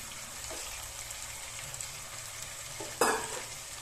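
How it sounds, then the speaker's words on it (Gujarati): Chopped onions, medium-sized and coarsely cut, hitting hot oil with frying garlic in a pan, giving a soft continuous sizzle with a brief louder burst of hissing near the end as they are stirred in. "હવે આપણે એડ કરશું એમાં બારીક સમારેલી, બહુ ઝીણી નથી સમારી એવી ઓનિયન ડુંગળી એડ કરશું."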